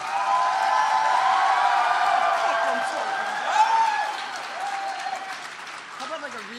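A convention panel audience at RTX 2016 claps loudly at first, the applause thinning and fading over the seconds while voices start talking over it.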